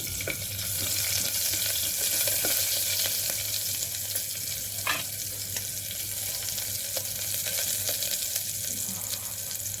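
Mustard seeds, cumin and green chillies sizzle steadily in hot oil in a home kitchen while pongal is cooked, a dense continuous crackle with a few sharper pops, close and fairly loud with no talking.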